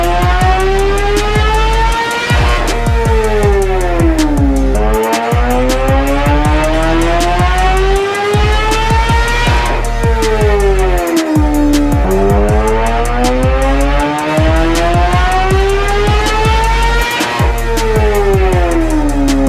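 Kawasaki ZX-6R 2024 sportbike engine warming up on a dyno, loud and close, revving up and down in repeated sweeping cycles with brief drops between pulls, a strong rising and falling whine throughout.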